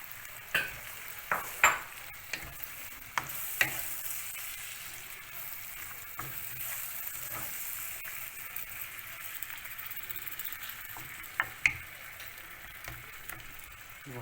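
Blended tomatoes sizzling in a pan with chicken thighs, a steady low frying hiss broken by scattered clicks of a utensil stirring against the pan.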